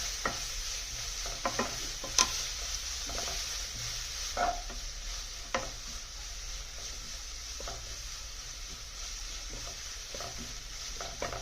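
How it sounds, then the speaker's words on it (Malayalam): Onions sauté in a pan for mushroom masala, a soft steady sizzle with occasional scraping clicks of a stirring spoon, faint and continuous throughout. "അതുകൊണ്ടാണ് ഉള്ളി വഴറ്റിക്കൊണ്ടിരിക്കുന്നത്"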